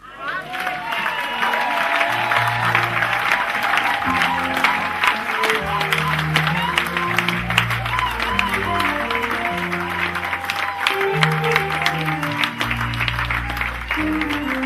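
Church audience applauding and cheering as someone is acclaimed, a steady dense wash of clapping with rhythmic music and bass notes playing underneath throughout.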